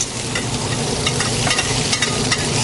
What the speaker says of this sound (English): that same sizzle again